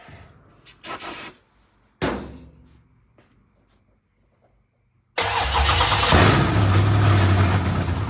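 A 1972 Dodge Charger Rallye engine is cranked in a few short bursts with pauses, then catches and runs loudly and steadily up close, a rough, rumbling idle with no talking.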